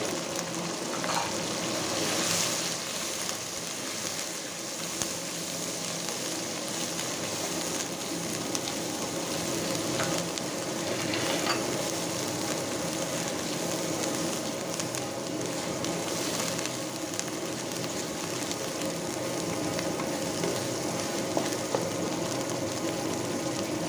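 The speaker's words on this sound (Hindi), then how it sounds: "अब जाएगा इसमें प्याज," Onions frying steadily in a pan for a chicken and okra masala, a continuous soft sizzle and crackle that holds at an even level from start to end with no voices.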